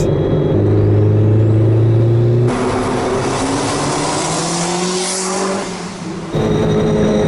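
A boosted, B20B-swapped 1995 Honda Civic EJ coupe accelerates hard in third gear, a loud close engine note climbing steadily in pitch, with a sudden gear change partway through before pulling again.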